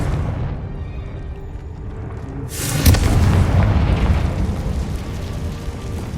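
Confringo blasting spell cast in the Hogwarts Legacy video game: one sudden, loud boom bursts out partway through over low game ambience, then a sustained rumbling roar follows. No one speaks.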